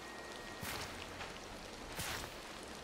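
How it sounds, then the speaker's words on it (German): Steady rain hisses across the whole clip in Disney Dreamlight Valley, a dense wash of patter with a couple of brief louder splashes, no voices. "weil, naja, es regnet."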